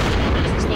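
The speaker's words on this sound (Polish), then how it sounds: "Posuńcie się, bo ja tam artę rzuciłem" Artillery strike explosions in a war video game, dense and continuous low rumbling blasts filling the short moment, loud and close, with no clear gaps between impacts.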